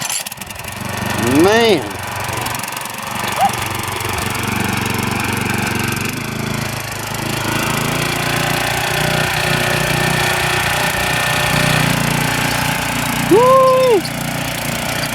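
A gas-powered tiller engine started without choke runs steadily at close range, a rough continuous mechanical drone throughout, with a man's brief exclamation near the start.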